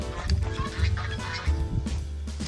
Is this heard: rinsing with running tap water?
no